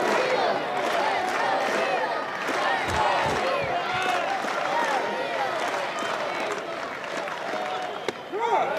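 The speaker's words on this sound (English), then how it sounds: "This crowd's been awesome all game." A stadium crowd at a 2024 NCAA baseball regional game between North Carolina and Long Island cheers and yells steadily throughout, many overlapping voices rising and falling.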